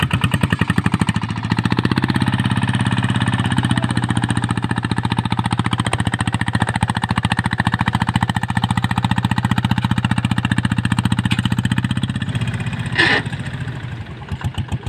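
A powerful car engine runs steadily as the vehicle rolls along, a loud, close, rhythmic mechanical rumble with a pulsing beat throughout, easing slightly near the end with a brief rattle.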